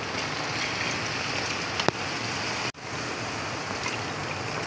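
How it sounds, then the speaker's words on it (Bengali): Hot water pours steadily into a pot of potol pulao made with Gobindobhog rice, a continuous rushing splash at close range broken by one sharp click and a brief dip near the end. "এবার জল দিয়ে দিচ্ছি"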